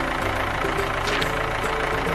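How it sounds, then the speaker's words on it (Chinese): A smoking tractor's engine chugs and idles in a steady, continuous mechanical drone at moderate loudness, with no voices over it. "这时啊，一辆拖拉机突突突突突突冒着烟开过来了"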